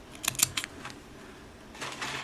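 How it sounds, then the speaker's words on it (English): Scissors snip through a strand of yarn at the end of a lace scarf, giving a few quick, crisp close clicks followed by a soft rustle. "just cut the whole strand of yarn"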